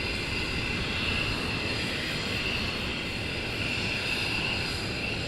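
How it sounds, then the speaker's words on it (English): A military jet taxiing at RAF Lakenheath during a morning launch, its engines holding a steady, loud whine and roar that runs unbroken from start to end. "we've got another one taxiing down towards us"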